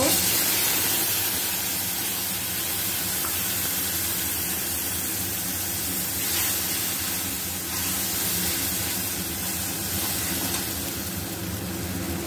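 Tomato paste and spices hiss steadily in hot oil, a loud, continuous broadband sizzle that holds even for the whole stretch, close up with no talking.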